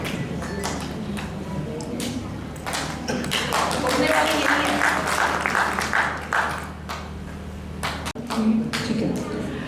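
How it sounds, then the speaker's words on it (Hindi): Audience applause at a women's day honours ceremony, dense clapping sustained throughout with a steady crowd murmur and voices mixed in. "तो एक बार जोरदार तालियां नीलम खारीवाल।"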